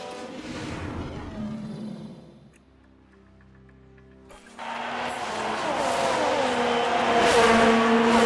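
An F1 car in F1 Manager 22 slides off the track and spins, with engine roar and tire noise dropping away briefly, then a louder, sustained rush of engine and skidding returns.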